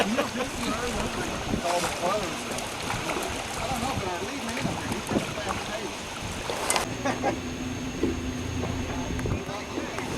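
A boat cruises along a river at about five miles an hour, giving a steady broadband rush of wind and water across the whole clip, with voices talking over it.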